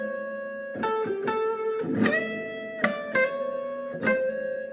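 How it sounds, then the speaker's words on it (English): Electric guitar blues lick played over a dominant chord, a minor third hammered onto the major third and bent, several separate phrases of sustained notes with sharp plucked attacks, close and clear, no talking. "I'm going to play the minor third and immediately hammer onto it."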